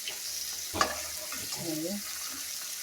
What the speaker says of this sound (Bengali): মাছগুলো ভাজা হয়ে গেছে একটু দেখুন এগুলো উল্টিয়ে দিলাম ভালো করে উল্টিয়ে দিয়ে ভালো করে ভেজে নিলাম